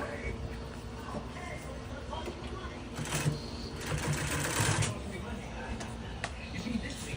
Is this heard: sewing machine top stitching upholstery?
yes